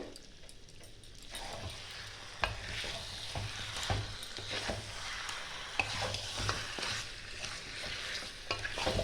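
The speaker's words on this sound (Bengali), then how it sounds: "এটা আমি পাঁচ ছ মিনিট ধরে ভালো করে কষাবো" Chicken bhuna stirred and fried in a pan, a steady soft sizzle broken by regular scraping knocks of the spoon against the pan, quiet and close with no voices.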